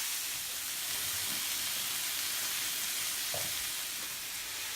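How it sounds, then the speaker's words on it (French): Shrimp and beef skewers cooking on a barbecue give off a steady, even hiss of sizzling fat that carries on without a break, with a couple of faint knocks and no voices. "Et on attend la fin de la cuisson de nos brochettes."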